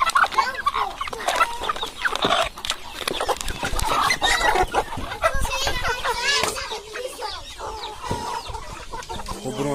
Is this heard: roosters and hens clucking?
yes